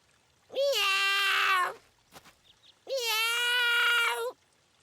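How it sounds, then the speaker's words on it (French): A stuck kitten gives two long, loud, drawn-out meows close by, separated by a short pause with faint rustling, and no one speaks over them. "Oh, un chaton, le pauvre."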